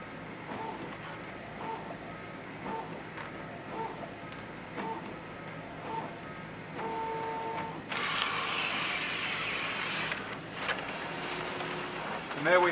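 A Canon multifunction printer prints and stacks documents: a faint series of regular mechanical pulses, then a louder, continuous whirring feed as paper runs through, with a few clicks near the end.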